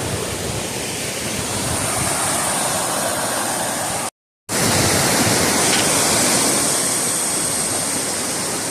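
A river flowing under a bridge along a cycling route near Burney, California, a loud, steady broadband rush that fills the whole stretch and cuts out briefly near the middle.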